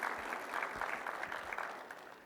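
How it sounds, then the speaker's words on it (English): Audience applause at an Army oath of enlistment ceremony at Space Center Houston, a soft, steady patter of many hands clapping, fairly distant and fading slightly toward the end. "I think that deserves a whoop and a round of applause."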